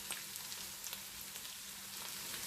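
Peas and carrots sautéing in a pan for fried rice with purple cauliflower give a steady, even sizzle with faint crackles throughout, close and moderately quiet, with no talking.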